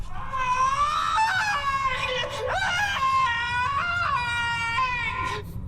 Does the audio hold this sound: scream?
yes